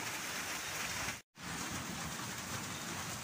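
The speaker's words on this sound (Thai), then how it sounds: "บรรยากาศทางบ้านเฮาก็แม่นฝนตกนักหลายมื้อนี้เนาะ" Steady rain falling in a rural Lao village during a wet morning, a continuous dense hiss of drops on surfaces. A brief silent gap interrupts it once.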